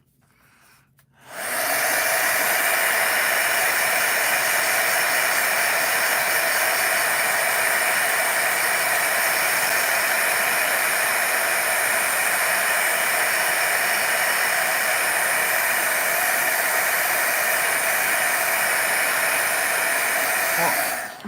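A heat dryer switches on after a moment of quiet and blows a loud, steady whooshing roar of air over stamped ink, continuing without pause to the end.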